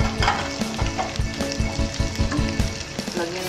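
Bacon sizzles and spits in a frying pan for a creamy carbonara, a dense, steady crackle close by with rhythmic scraping stir strokes running through it, no voices.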